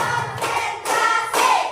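A primary school class clapping in unison on a teacher's count, with three short sharp bursts of hands striking together, close and evenly spaced.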